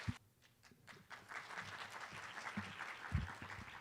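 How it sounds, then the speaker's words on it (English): Audience applause in a university forum hall welcoming the university president to the stage, starting faint and swelling into a steady, moderately distant round of clapping. "let's welcome her to the stage with a big round of applause"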